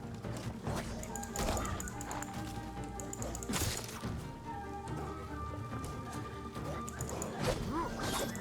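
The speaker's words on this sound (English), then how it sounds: "Those dogs are the most annoying creatures in the whole game." Dogs barking in the video game Ghost of Tsushima, several sharp barks and yips scattered over a steady musical game soundscape, moderately loud and mixed with other effects.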